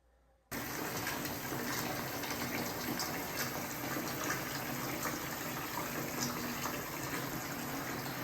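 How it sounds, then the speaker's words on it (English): Water gushes loudly and steadily from a tap into a filling bathtub, starting abruptly after a brief quiet moment and then running unbroken and close, with no voices. "I'll go take a bath"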